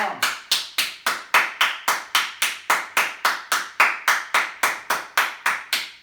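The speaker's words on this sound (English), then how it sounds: "And clap your palms." Steady, rhythmic palm-on-palm clapping during a guided tapping self-massage routine, about three claps per second, crisp and close, continuing evenly throughout with no talking.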